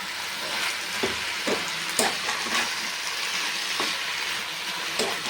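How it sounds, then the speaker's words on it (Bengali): Cumin and coriander powder being stirred in oil in a frying pan for a vegetarian banana-flower mocha ghonto, with a steady close sizzle and a few soft scraping stirs. "জিরের গুঁড়ো আর দিচ্ছি ধনিয়া গুঁড়ো ভালো করে নাড়তে থাকবে"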